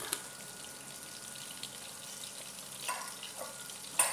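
Garlic and onion sauté in a pan, a soft, steady frying hiss with a few light stirring clinks and taps, quiet and without voices.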